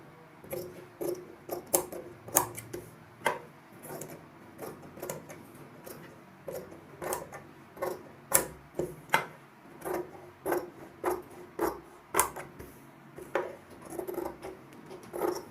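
Scissors cutting choli fabric along the stitched side seams, a quiet run of crisp rhythmic snips and small metallic clicks, close up with no talking.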